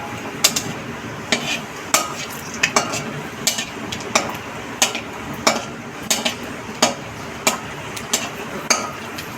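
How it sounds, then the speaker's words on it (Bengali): Panch phoron spices sizzling in hot oil in a pan, with a steady fry hiss broken by regular sharp clinks of a spatula scraping and stirring about every half second, no voices. "একটু পাঁচফোড়ন দিয়ে দেবো।"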